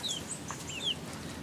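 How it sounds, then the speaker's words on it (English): Chickens cluck and chirp softly in short bursts over a low outdoor background, with a few higher squawky calls scattered through. "Chester, you're freaking out the chickens."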